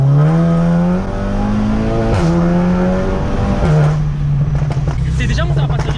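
A Golf 7 GTI Clubsport with a 2-litre TSI turbo engine and APR Stage 2 tune rumbles loudly at a steady, throbbing idle, with a rev change partway through and crackling pops toward the end.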